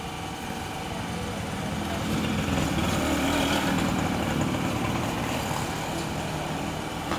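Steady motorcycle taxi (okada) engine rumble drones in the background, constant and moderately faint, with no clear pauses.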